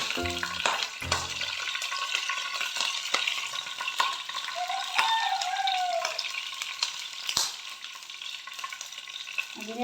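Mustard seeds fry and crackle in hot oil in a pan for a bitter gourd stir-fry, a steady close sizzle with scattered sharp pops and a few utensil knocks, and no voices.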